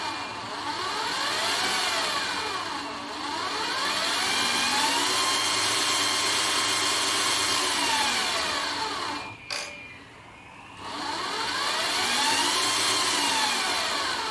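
An electric motor in an RC Arocs tipper truck model whines steadily, rising and falling in pitch as it speeds up and slows down, close and clear, with a brief knock partway through.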